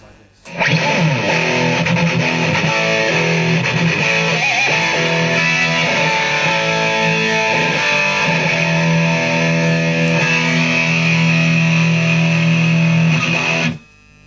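Electric guitar through a Marshall amp on the overdrive channel with more gain, playing a sustained, saturated solo with bent notes for about thirteen seconds, loud and close, ending abruptly.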